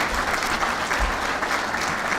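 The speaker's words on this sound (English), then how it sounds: "if we could please have a round of applause for Phil" A banquet crowd at a golf awards dinner gives sustained, steady applause that stays even and fairly loud throughout, with no speech over it.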